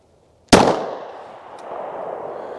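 A single sharp 9mm pistol shot fired with Winchester white box jacketed hollow point ammunition, a loud crack followed by a decaying echo and faint outdoor ambience.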